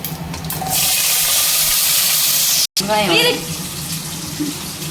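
Dried red chillies, cashews, shallots and garlic fry in oil with a loud, steady sizzling hiss, broken by a brief cut, then continuing under a person talking.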